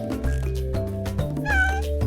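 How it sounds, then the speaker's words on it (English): A cartoonish cat meows in the Cattails video game, several short close meows in quick succession over a gentle melodic background score, with no talking. "we can hear them meow."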